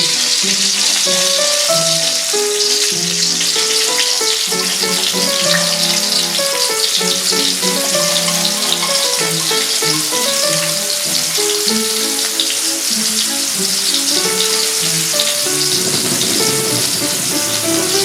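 Pounded garlic fries in oil in a pan, giving a steady close crackling sizzle that runs unbroken for about eighteen seconds, with a melodic background tune playing underneath and no talking.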